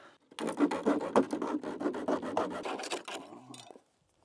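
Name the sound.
cutting corrugated clear roofing sheet in half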